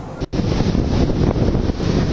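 Strong winds from Cyclone Biparjoy on the coast at Mandvi, Gujarat, buffet the microphone with a loud, continuous roaring rumble. A brief dropout comes near the start.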